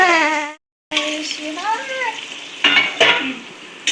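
Oil sizzles steadily as semolina balls fry, with a person talking over it and a few brief clatters near the end.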